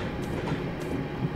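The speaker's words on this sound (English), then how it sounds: "There's a cargo train." A cargo train rolls past in Train Simulator 2015 on the West Coast Main Line, a steady low rumble with a faint rhythmic rattle, brief and continuous with no voices.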